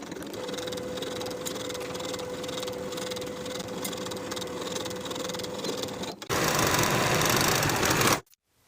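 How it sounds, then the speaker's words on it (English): A sewing machine stitches the side seams of a jumper with a 1/2 inch allowance, a steady close mechanical whir that grows louder and faster near the end before stopping abruptly. "Sew both side seams with 1/2 inch seam allowance."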